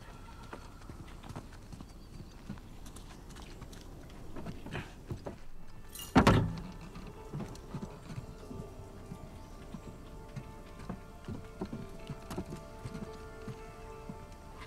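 Horse hooves clop steadily over a noisy, rain-like background, with one sharp loud burst near the middle and a brief whinny, from the video game Uncharted 4: A Thief's End.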